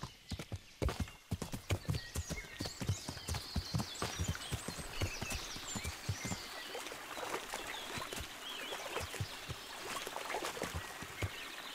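Horse hooves clip-clopping steadily and close in the medieval game Kingdom Come: Deliverance, with a brief whinny, dense and continuous throughout with no talk.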